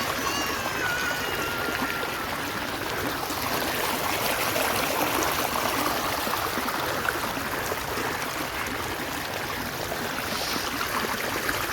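Rainwater rushes through a Konkan village in May as a steady, moderately close, even flow that runs unbroken for the whole stretch with no talk.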